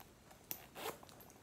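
Zipper on the front pocket of a purse with chain strap and studs, pulled in a couple of quick, faint, close rasping strokes against a quiet background.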